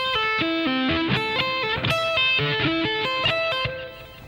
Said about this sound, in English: so those two together slow should sound like this